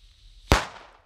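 An old Nico firecracker set off outdoors in the Czech Republic bursts in a single sharp, loud bang that fades out quickly; no one speaks.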